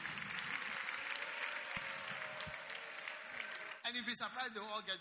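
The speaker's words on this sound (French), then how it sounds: "Acclamez pour eux." Applause from a church audience fills the first few seconds as dense, sustained clapping at moderate distance, then gives way to a voice speaking over the fading claps.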